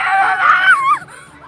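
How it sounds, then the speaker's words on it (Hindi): A woman confronting police screams in a loud, high, wavering cry that rises and then drops off sharply, followed by quieter trailing sound. "वायरल वीडियो में महिलाएं चीख कर पुलिस कर्मियों से पूछ रही हैं"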